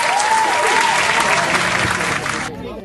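Hearty audience applause at an Islamic school prize ceremony, a loud, thick roar of clapping that fills the room and then drops away abruptly near the end, with a voice speaking over it.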